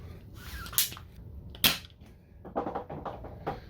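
Anemone 12-shot foam dart pistol loaded with heavy darts, firing in a quick string: two sharp pops stand apart, then a run of softer rapid snaps, all near and with no voices.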